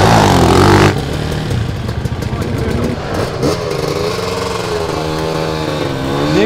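Honda CR enduro motorcycle engine cranking over with a loud burst of noise, then catching and running with uneven rising revs; on a rough enduro trail.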